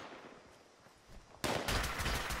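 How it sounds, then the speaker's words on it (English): Gunfire in a video game: after a quiet stretch, a sudden burst of rapid, loud shots breaks out and keeps going in a fast rattling volley, with no voices. "He's shooting my friend."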